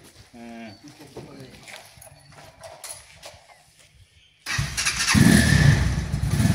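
A Xunjie motorcycle in Samarkand sits quiet while people talk, then its engine bursts in loudly and roars on, close and rough, to the end.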